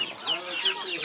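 Chickens clucking at a poultry market, a steady run of nearby clucks and squawks from several birds, fairly loud and continuous.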